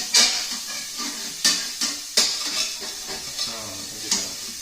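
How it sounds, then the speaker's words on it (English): A spatula scrapes the bottom of a hot pan deglazed with white wine, several sharp metallic scrapes at an uneven pace over a soft sizzle, close by. "I'm deglazing it, so I'm scraping this"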